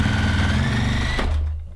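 Juki TL-2010Q sewing machine driving its needle through ten layers of denim at full speed, a loud steady mechanical whir that cuts off abruptly near the end, leaving a low hum.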